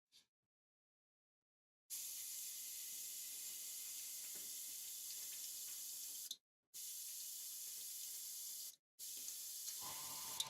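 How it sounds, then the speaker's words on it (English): An airbrush sprays acrylic paint that is not made for airbrushing, producing a steady close hiss in three bursts separated by brief stops, with a small click near the end. "I'm going to make sure that it's not too thick when it goes through the airbrush."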